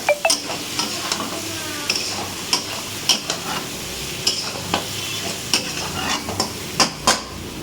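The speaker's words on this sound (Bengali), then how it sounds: "দিয়ে ভালো করে এবার ভেজে নেব।" Spices with turmeric frying in a pan, a bright continuous sizzle punctuated by regular metallic spatula scrapes and taps against the pan, close and fairly loud.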